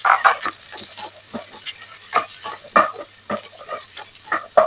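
Onions sautéing in a pan for odiyal crab soup, with irregular soft crackles and stirring scrapes over a steady low hiss, close and moderately loud.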